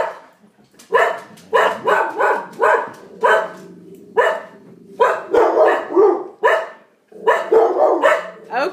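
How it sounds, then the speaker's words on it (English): Several dogs bark repeatedly indoors in sharp, loud bursts that come in clusters with brief pauses between them, alongside some higher yips. "my dogs are barking at something"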